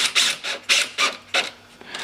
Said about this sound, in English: we'll drill in with a very small drill bit, because these are very small screws